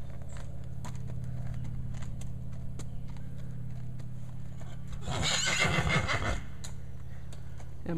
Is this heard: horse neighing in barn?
yes